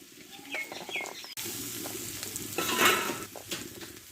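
Potatoes and watermelon rind being sautéed together in a pan, a steady sizzle and fry with stirring scrapes, preceded by brief chirping sounds at the start.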